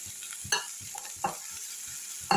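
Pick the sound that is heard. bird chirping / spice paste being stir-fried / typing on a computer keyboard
spice paste being stir-fried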